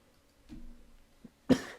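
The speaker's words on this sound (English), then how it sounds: "Had to cough." A single sharp, close cough bursts out after a brief soft throat sound, otherwise quiet.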